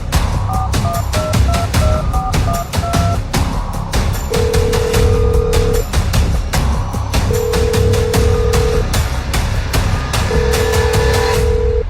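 A telephone rings repeatedly in a loud, busy mix, with dialing beeps and long steady tones breaking in between.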